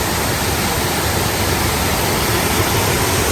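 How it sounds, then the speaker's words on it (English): Cayuga Falls at Ricketts Glen State Park roars as a constant, loud broadband rush of falling water, close and unbroken throughout. "Next little falls here, Cayuga Falls."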